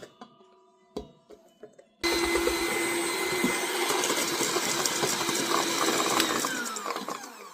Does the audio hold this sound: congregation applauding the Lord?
no